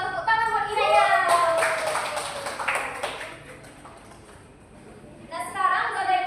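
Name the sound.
classroom of children applauding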